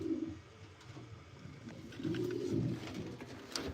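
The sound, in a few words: birds cooing in a breeder loft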